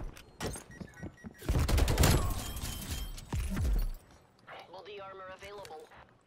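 Rapid bursts of MP5 submachine gun fire in a Search and Destroy first-person shooter match, loud dense volleys mid-clip among scattered shots, with game voices and effects around them.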